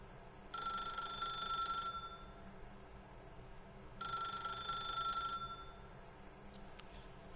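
Telephone bell ringing in the video game The Stanley Parable, two bright rings about three seconds apart, each lasting over a second, clear and close against a quiet background.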